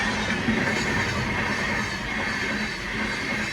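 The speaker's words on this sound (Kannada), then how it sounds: "ಟ್ರೈನ್ ಹೋಗ್ತೈತೆ ಕೊನೆಗೂ ಟ್ರೈನ್ ಹೋದ ತಕ್ಷಣ ನಾವು ಹೋಗೋಣ" A train rolls past a railway level-crossing gate, filling the whole stretch with a loud, close, steady rumble and hiss of wheels on track and no voices.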